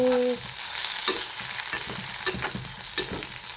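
Vegetables fry in a pan with a steady sizzle while a spoon stirs them, scraping and knocking against the pan every second or so.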